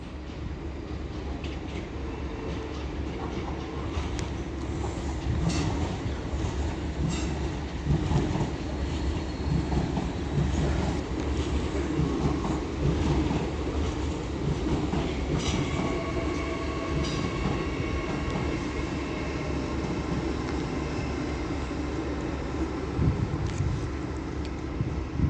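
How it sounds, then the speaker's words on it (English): An LNER Class 802 train on a Leeds to London King's Cross service rolls into Doncaster station, a steady rumbling approach with rail clatter and rising wheel noise over about twenty-five seconds. "And now coming in is another LNER 802 running from Leeds to London King's Cross."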